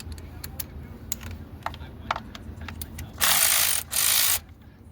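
Ratchet on a long extension working loose valve cover bolts on a 2020 Chevy Trax 1.4 turbo, close and fairly loud: a run of quick clicks followed by two longer bursts of ratcheting.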